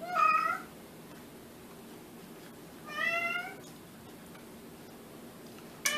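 A house cat meows twice, a short cry at the start and another about three seconds later, both close and clear over a quiet room with faint ticking.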